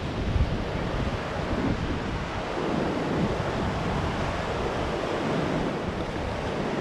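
Ocean surf rolls onto a beach in a steady broad wash of breaking waves, mixed with wind buffeting the microphone, continuous and fairly loud without voices.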